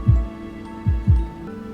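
Heartbeat sound effect from the video game Love and Deepspace: three deep, close thumps, a single beat followed by a quick pair, over a low steady hum.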